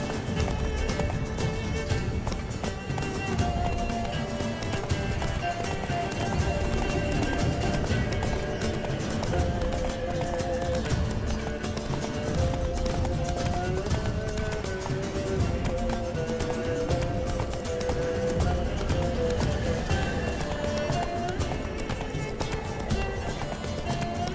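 Roach, a horse in Witcher 3, galloping with rhythmic clip-clopping hooves that run steadily throughout, layered over game music and ambience, with occasional brief voices.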